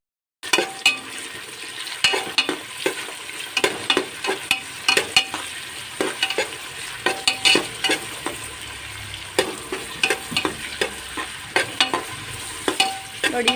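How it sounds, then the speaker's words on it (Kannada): Three-quarters of a portion of onions frying in a pan for pulao, a loud continuous sizzle with frequent clattering stirs of a spoon against the pan. "ಮುಕ್ಕಾಲು ಭಾಗದಷ್ಟು ಈರುಳ್ಳಿನ ಹಾಕ್ಕೊಳ್ತಾ ಇದ್ದೇನೆ ಫ್ರೈ ಮಾಡ್ಕೊಳ್ಳಿಕ್ಕೆ"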